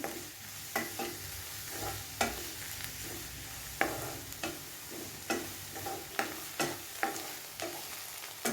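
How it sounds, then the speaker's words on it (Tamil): Grated watermelon rind sautéing in a pan for halwa, with regular close spatula strokes and scrapes over a soft, quiet sizzle. "இந்த வாட்டர் கண்டென்ட்லாம் நல்லா அப்சர்வ் ஆகி வர அளவுக்கு நம்ம இந்த தோலை நல்லா வதக்கிக்கணும்"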